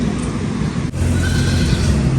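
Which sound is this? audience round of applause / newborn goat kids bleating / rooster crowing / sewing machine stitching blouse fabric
newborn goat kids bleating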